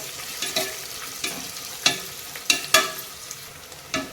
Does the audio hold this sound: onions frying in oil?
yes